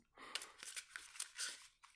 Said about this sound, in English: These are brand new cards and they're a little bit